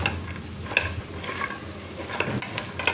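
Soaked peas being mixed by hand with spices and mustard oil for ghugni, a quiet squelching and rustling with occasional light clinks against the bowl, fairly close and soft, with no talking.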